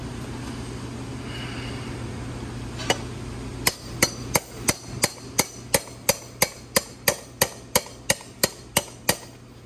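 A hammer taps the end of an axle on a strapped Honda Fat Cat motorcycle being torn down, about a dozen sharp metallic strikes in a steady rhythm, close and loud over a low background hum.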